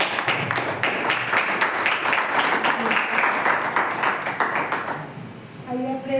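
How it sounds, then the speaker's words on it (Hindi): A Sunday church congregation claps in welcome, dense and fairly loud, sustained for about five seconds before dying away as a voice begins to speak. "परमेश्वर की पवित्र हजूरी में हम तालियों के साथ उसका स्वागत करेंगे।"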